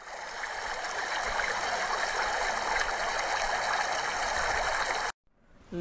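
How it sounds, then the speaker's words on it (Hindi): A fast-flowing river in the Uttarakhand mountains rushes in a loud, steady broadband roar that continues for several seconds, then cuts out abruptly before faintly returning. "पानी का फ्लो एक तो बहुत तेज दिख रहा है"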